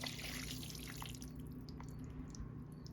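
Broth is poured into a pot of shredded chicken and potato chip crumbs, a soft, quiet trickle and splash of liquid lasting a few seconds, with no talking.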